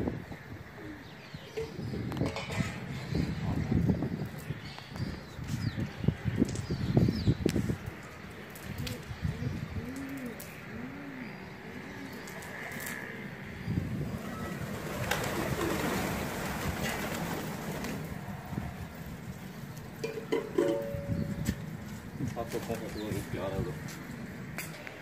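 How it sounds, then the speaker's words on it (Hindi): Pigeons flap their wings and coo softly with occasional wing flutters and rustling, heard outdoors at moderate distance in light rain, with faint background voices. "दोस्तों ये कटे कबूतर,"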